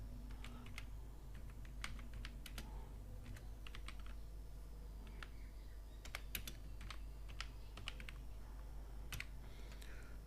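Fingers tap on a computer keyboard in quick, irregular clusters of clicks, faint and close, with brief pauses between bursts of keystrokes over a low steady hum.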